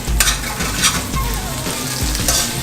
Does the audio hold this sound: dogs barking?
no